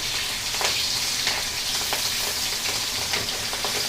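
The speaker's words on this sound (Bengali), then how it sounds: "ইলিশ মাছ ভাজতে বেশি সময় লাগে না" Hilsa fish frying in a pan produces a dense, continuous loud sizzle up close, with small crackling pops scattered through it and no voices.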